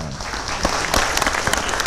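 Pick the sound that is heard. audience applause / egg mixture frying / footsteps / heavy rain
audience applause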